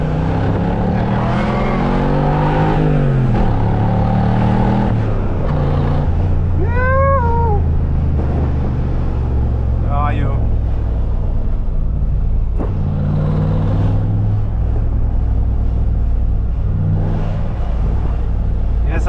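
A tuned Mercedes G-Wagon AMG Brabus 7.2 rumbles loudly up close, a deep throbbing engine note with rising rev swells, while people talk over it.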